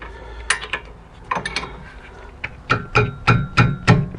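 A wrench tightens rear brake disc and pad parts on a Chevrolet Captiva, with a run of sharp metallic clicks and ratcheting ticks, sparse at first and then quicker and louder, close by with no talking.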